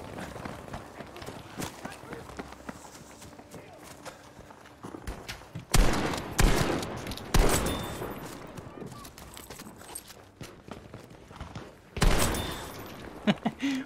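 Shotgun blasts in Battlefield V, a few loud, sharp broadband bursts spaced several seconds apart over a busy battlefield bed of footsteps and movement, with people talking.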